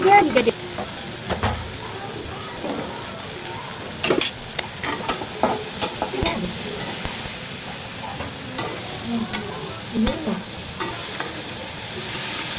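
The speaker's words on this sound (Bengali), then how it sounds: "মশলাটা একটু কষাই নিই, ধনে পাতা দিয়ে দিলাম" Spice paste for hilsa with eggplant hisses and spits in a pan as it is sautéed, a spoon scraping and knocking rhythmically through a loud, close, continuous sizzle without any speech.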